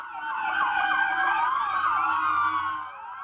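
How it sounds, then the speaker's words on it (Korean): Police car sirens wail continuously as a line of patrol cars chases a city bus through downtown Los Angeles at night. The sirens sound loud and close, with sweeping overlapping tones and no talk. "경찰차들은 버스 뒤를 줄줄이 뒤쫓습니다."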